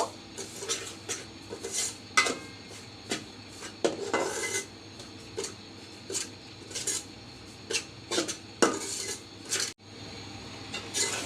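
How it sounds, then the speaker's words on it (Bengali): Semolina dry-roasts in a pan on low heat and is stirred constantly, giving repeated metal scrapes and clinks of a spoon against the pan in an irregular rhythm. "অনবরত নাড়াচাড়া করে একটু বেজে নিচ্ছি বেশি ব্রাউন করব না সাদা অবস্থায়"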